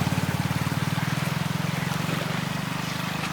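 Fast water rushing near Chulliyar Dam, a steady close churning flow with a rapid pulsing low rumble that holds evenly throughout, with no voices over it.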